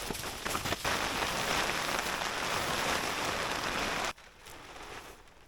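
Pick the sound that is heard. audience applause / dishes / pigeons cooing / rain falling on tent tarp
rain falling on tent tarp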